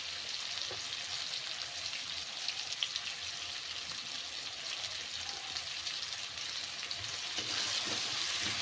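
Spices with turmeric and chili powder sautéing in a pan, a continuous close sizzle and crackle with light stirring, no talk over it.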